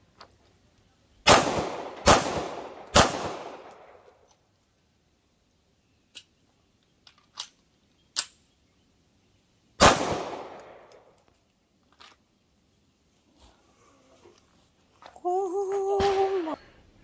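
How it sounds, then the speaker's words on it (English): 9mm pistol shots at an outdoor range, 10 yards: a quick string of three loud sharp cracks, a fourth after a pause, with faint clicks between and a brief voice near the end. "Okay, four straight shots in the center of the back target."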